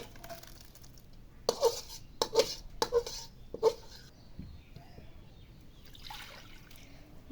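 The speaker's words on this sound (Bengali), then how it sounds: "এখন কড়াইটা একটু ধুয়ে নেব" A wok (kadai) is rinsed with water in a home kitchen: a few distinct splashes and sloshes with light metallic knocks, close but quiet, separated by short pauses and followed by a soft trickle.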